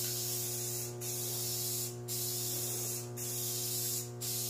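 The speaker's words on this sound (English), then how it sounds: "What I'm using is two times the coverage Rust-Oleum. Sprays on nice, even," Rust-Oleum 2X coverage spray paint hissing from a can in a shop, in long steady bursts broken by short pauses, close and loud over a constant electrical hum, with no talk.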